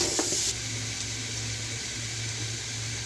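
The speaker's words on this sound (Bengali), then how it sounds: "আলু ভালো করে ভেজে নিয়ে আলুগুলো তুলে রাখবো" Potatoes frying in hot oil, a steady close sizzle that holds evenly for a few seconds with a slightly louder opening moment.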